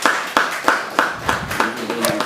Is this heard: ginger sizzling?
no